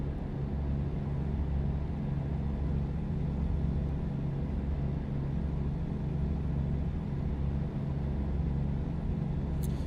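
Steady low rumble of a truck engine idling or cruising, heard from inside the cab, continuous and even throughout with no voices.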